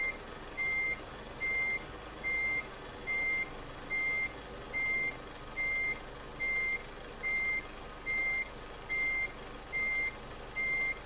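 Truck reversing alarm in Euro Truck Simulator 2, a steady series of evenly spaced electronic beeps, about one per second, over a low engine rumble while the rig backs up.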